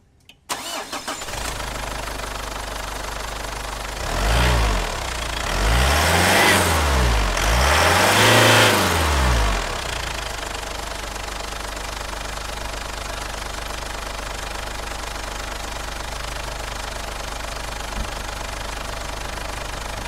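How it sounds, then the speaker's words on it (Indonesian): A 2013 Ford Everest XLT Limited automatic diesel with 90,000 km cranks and fires, briefly revs with swelling sweeps, then settles into a steady, smooth idle hum that runs alone for the rest of the clip. "Kita review suara mesin dieselnya yang semut halus."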